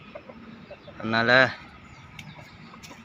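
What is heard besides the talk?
chickens clucking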